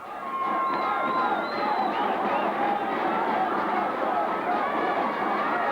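A large crowd waits at the 1989 Junior A hurling final, a steady distant murmur of chatter and occasional shouts filling the grounds with no single voice standing out.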